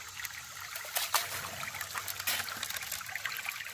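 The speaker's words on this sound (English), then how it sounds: "what I've been doing is running it through this here sluice box" Water trickles and splashes through a gold prospecting sluice box as gravel is washed down it at a creek in West Virginia, a close, continuous dribble with small irregular splashes and no talk.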